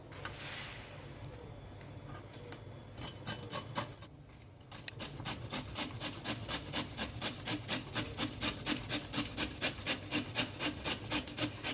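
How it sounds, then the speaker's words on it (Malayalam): Large pieces of raw green mango rubbed on a grater for a sweet and spicy chutney: a steady, fast run of rhythmic rasping strokes, close and even, preceded by a few softer, irregular scrapes. "ഇനി നമുക്ക് ഗ്രേറ്റ് ചെയ്യാം."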